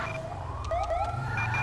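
Wailing emergency vehicle siren in the video game GTA V with the LSPDFR mod, an ambulance responding code 3 from Rockford Hills; rising and falling yelps sound fairly close and steady over a low engine rumble, with no talk.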